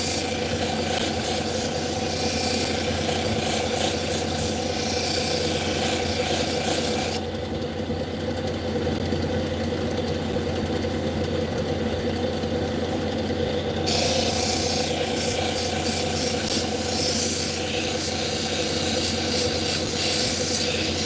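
Obsidian pressed against a 1,200 grit grinding wheel in a shop, a steady close rubbing hiss over a constant motor hum with no break for about twenty seconds, with a shift in texture midway.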